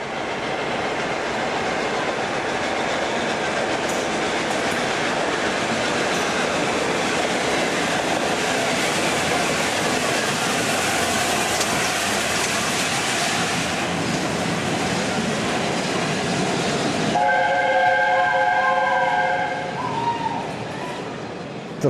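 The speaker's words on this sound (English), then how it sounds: "awaiting the arrival of 6009, an A4 class Pacific locomotive named Union of South Africa" An LNER A4 class Pacific steam locomotive, 6009, arriving at York station with the Scarborough Spa Express special, a loud continuous rolling rumble and rail noise that builds up close, with a sharp shift near the end.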